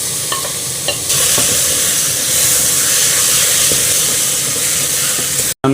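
Fish goes into a hot pan with lemongrass for Mohinga, the Burmese fish noodle soup. A loud, steady sizzle and hiss swells at once and holds close for several seconds, then cuts off abruptly, with no talking.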